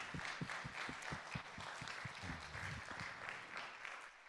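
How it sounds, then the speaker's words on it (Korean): A church congregation claps in praise at a youth worship service, with a soft, distant wash of applause marked by a steady, rhythmic beat of unison claps, fairly faint, closing on a sudden loud thump. "오늘 우리의 찬양을 받으시는 그 하나님께 우리 한번 영광의 박수 올려드리겠습니다."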